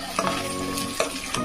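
Carrot and capsicum frying in hot ghee in a pan, stirred with a utensil: a steady sizzle with a few sharp scraping clinks spaced through it, close and fairly loud, with no voices.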